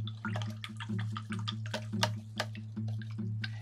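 A paintbrush swished and tapped in a cup of water while cleaning off tempera paint, giving small wet clicks and splashes in a quick irregular rhythm over a steady low hum, close and fairly quiet.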